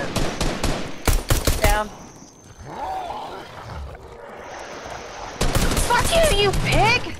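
Video game gunfire comes in rapid automatic bursts, loud and close, with a quieter stretch in the middle, under excited talking and shouting.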